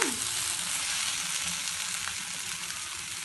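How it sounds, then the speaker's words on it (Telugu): Potato and capsicum sizzle steadily as they fry in a pan for an aloo capsicum curry, a close, even crackle with no talking. "మంచిగా వేగిపోయిందండి క్యాప్సికమ్ ఆలు కూడా"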